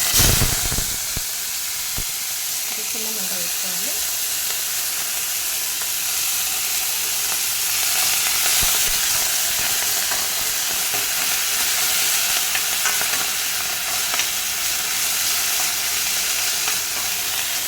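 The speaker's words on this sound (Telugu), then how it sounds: "ఆయిల్ కాగినాక ఎండుమిర్చి వేసుకుంటున్నా తర్వాత మెంతికూర గోలించుకుంటున్నాను" Dried red chillies and fenugreek leaves fry in hot oil for Telugu pudina-methi pachadi, a steady close sizzle and hiss with brief stirring scrapes at the start, no voices.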